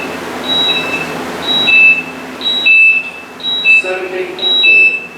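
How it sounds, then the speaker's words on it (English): An air quality monitor sounds a hazardous-atmosphere alarm, emitting a steady series of shrill, regularly spaced electronic beeps over a loud background rumble. "You can hear the alarm going off."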